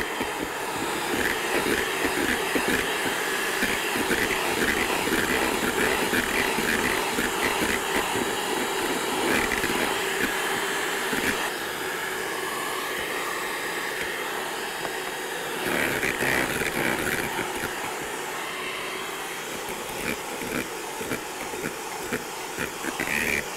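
An electric mixer whips meringue at high speed while sugar is added a little at a time, a loud, steady whirring drone that carries on for over twenty seconds with small shifts in pitch, close by.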